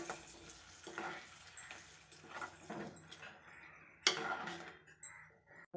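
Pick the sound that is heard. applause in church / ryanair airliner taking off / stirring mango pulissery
stirring mango pulissery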